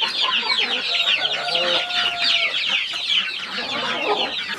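A flock of free-range farm chickens clucks and squawks continuously nearby, overlapping calls forming a busy, steady chatter throughout.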